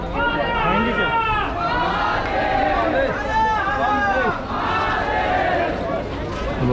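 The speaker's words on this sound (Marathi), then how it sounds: "समोर शनिवार असल्याने भरपूर गर्दी आहे ते आपण मध्ये आहोत आणि हर हर महादेवचा गजर होतोय" A dense crowd at Nageshwar Jyotirlinga Shiva temple near Dwarka chants together in rising, repeated calls, loud and close, with voices overlapping in a continuous rhythmic roar throughout.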